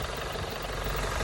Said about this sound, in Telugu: ఇంజన్ నాయిస్ కూడా ఫుల్ రెడ్యూస్ అయిపోయింది